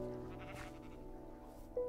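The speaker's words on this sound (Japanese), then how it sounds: "羊がいますね。" Sheep bleating in Minecraft, a short blocky in-game bleat sounding at moderate volume over quiet background game ambience, with no voices.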